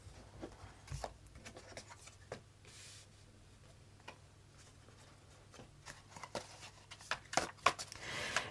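Pen scratching notes on paper at a desk, a quiet intermittent scribbling with soft taps and strokes that grows busier toward the end, close and faint with no talk.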